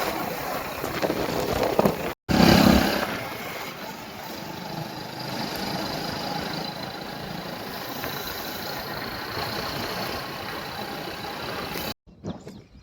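A mini tractor engine idles steadily nearby, a low continuous rumble mixed with wind buffeting the mic, with a brief dropout early on and another near the end.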